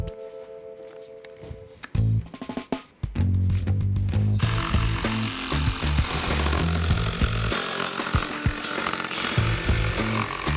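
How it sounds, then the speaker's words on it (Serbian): A jigsaw cuts an octagon shape out of a wooden base board. After a quiet start with a few knocks, a loud, steady, close-up power-saw buzz runs without a break to the end. "Oblik koji si nacrtao potom izreži ubodnom testerom."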